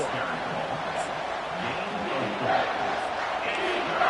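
Home stadium crowd roaring in the NCAA Football 25 video game on a third down, a dense, steady wall of cheering voices with some louder swells toward the end.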